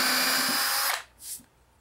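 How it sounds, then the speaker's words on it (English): A power drill bores into the underside of a walnut table top, a loud close whine that runs for about a second and then stops abruptly, followed by a brief quieter mechanical sound. "Now here's the scariest part of the whole project, drilling into the top."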